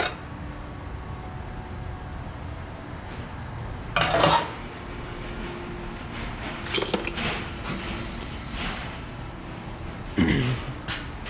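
Metal clanks and scrapes ring out close by while an oil pan baffle is worked free from a 5.7L LS1 V8 during teardown, with a few sharp metallic knocks standing out over quiet shop background.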